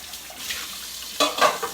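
Dog bowls being rinsed and washed with water, with soft splashing and clinking of bowls, then a louder burst of running water and clatter near the end.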